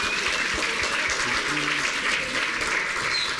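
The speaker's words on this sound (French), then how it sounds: "On peut l'applaudir" An audience on stage night applauding as a coach is called up, dense steady clapping throughout with a voice faintly underneath.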